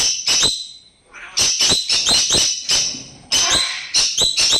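Conure parrots call from inside a breeding box, a close, loud series of harsh squawks and screeches in short bursts with brief pauses between, and no talking.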